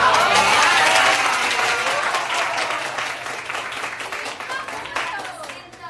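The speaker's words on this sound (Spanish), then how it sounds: "Un aplauso." Audience applause at a dental academic seminar on odontogenic keratocysts, a loud sustained burst of many clapping hands that gradually tapers off, with scattered voices underneath.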